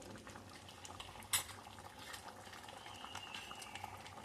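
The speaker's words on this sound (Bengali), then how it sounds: "দেখতেই পাচ্ছ ডালটা আমার টকবক করে ফুটছে" Quiet, steady bubbling of cholar dal (chana dal) boiling in a pot, with a single clink of a utensil near the start.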